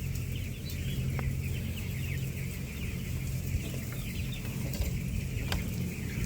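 Several chickens cluck softly and steadily in an upper coop, with an occasional sharper call standing out against low background noise.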